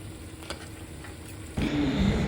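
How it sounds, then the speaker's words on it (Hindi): Gulgule batter balls deep-frying in hot oil, a low bubbling sizzle that jumps to a louder, denser crackle partway through, with no voices. "यहाँ पे एक तरफ मैं गुलगुले फ्राई कर रही हूँ"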